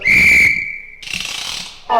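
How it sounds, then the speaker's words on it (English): A football referee's whistle blasts loudly, one long steady shrill tone lasting about a second, followed by crowd noise and a second short whistle burst at the end. "Again the ref, the whistle blew."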